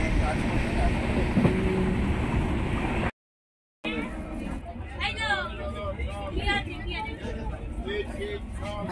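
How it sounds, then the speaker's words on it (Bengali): A freight train rolls past close by with a loud, broadband rumble for about three seconds; after a brief cut, people chatter over steady background noise. "মালবাহী ট্রেন, ট্রেনটা কি দারুণ না?"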